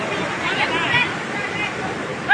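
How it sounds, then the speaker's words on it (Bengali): Floodwater gushing out through a breach near fishermen's boats makes a continuous rushing roar beneath a voice talking over it. "দেখতে পাচ্ছেন কিভাবে পানি বের হয়ে যাচ্ছে।"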